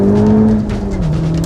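A Honda Civic Type R engine on a racetrack blips and drops revs during a heel-toe downshift into second, a loud, close, sustained engine drone whose pitch steps down partway through.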